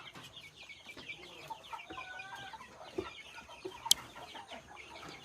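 Chickens cluck outdoors in a soft, steady chatter of short, fairly faint calls against background noise, with a sharp click partway through and no talking.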